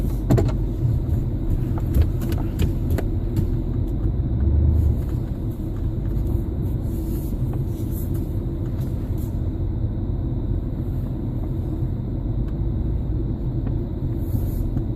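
A car engine rumbles steadily and low while reversing slowly into a parking space, with a few faint clicks early on and no talking.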